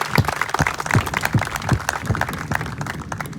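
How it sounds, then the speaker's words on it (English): A crowd at a pickleball court grand opening claps in lively applause, with dense overlapping handclaps that stay fairly even before thinning slightly toward the end, heard close. "massive round of applause for these guys for their enthusiasm"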